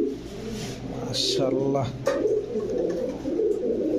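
KTM teddy pigeons, a prized breed, coo in a low rolling series, close and clear, with a voice speaking briefly over the calls and faint background murmur throughout.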